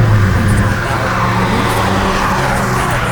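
A tuned Honda Fit GK5 with a roughly 25-horsepower boost revs hard under acceleration, a loud, close, sustained engine roar with a steady droning tone and a faint squeal layered on top.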